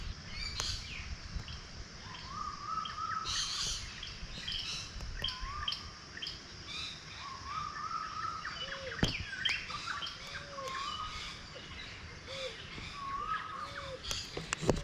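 A baza raptor calling from the trees, short rising whistled notes repeated at irregular intervals, moderately distant, among other chirping birds and faint background rustle.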